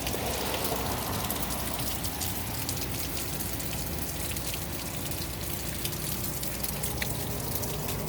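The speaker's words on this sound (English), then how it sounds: "And it is raining." Steady rain falls outdoors on a garden with potato plants, a dense, even hiss of drops spattering on surfaces, continuous and fairly close, with no voices.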